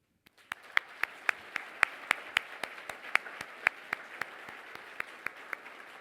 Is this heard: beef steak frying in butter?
no